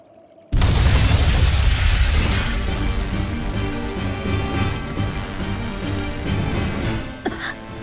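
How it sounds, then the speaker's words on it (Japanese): A loud explosion in the PS4 role-playing game Tales of Berseria, set off by flint, sulfur and oil in a storehouse, bursting in suddenly and then rumbling and crackling on with a sharp bang near the end. "爆発する。"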